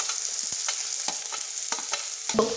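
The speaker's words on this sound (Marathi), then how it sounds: "तेल तापलेलं आहे. आता आपण काय करूया, जिरे टाकूया. त्यानंतर त्यामध्ये कांदा टाकूया. कांदा चांगला भाजू दे" Onion frying with cumin seeds in hot oil for a jackfruit bhaji, a close, continuous sizzle broken by several sharp scraping stirs of the pan.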